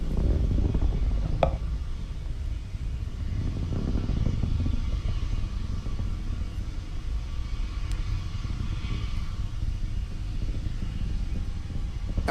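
A Falcon 9 Block 5 rocket roars through max Q during ascent from Vandenberg, giving a steady, distant, broadband rumble that continues without a break for the whole stretch, with no voices.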